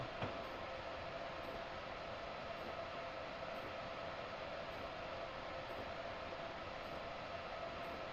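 Steady, continuous rumble and hiss of a train running in a train simulator game on the New York to New Haven route, an even mechanical drone with faint periodic clicks throughout.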